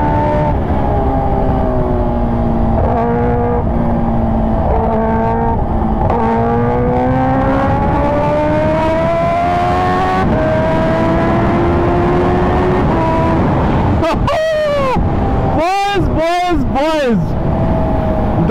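A Kawasaki H2R motorcycle engine on a road ride, loud and steady with the pitch rising and falling as it accelerates, then several sharp, fast revving surges near the end.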